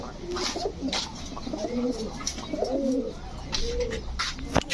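Indian Kaldam pigeons coo in low, rolling phrases, several calls in a row close by, with faint chirping and rustling behind them.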